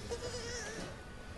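A young goat kid separated from its mother bleats in a short, wavering cry, close and fairly faint, heard alone without talk.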